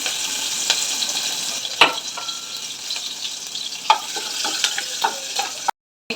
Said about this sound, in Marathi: आता तेल टाकून घेऊ आपण लसूण आणि मिरची चेचून घेतली ती टाकून घेऊया